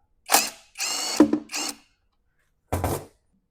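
Screws being driven out of the handle on an Xhorse Dolphin XP005 key cutter, heard as four short close whirring bursts in quick succession, a pause, then one more brief burst.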